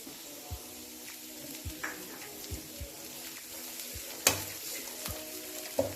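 Onion pieces and green chillies frying in oil for gobi manchurian, a close crackling sizzle with a steady run of spoon taps and clinks against the pan and one sharp louder spatter, no talking.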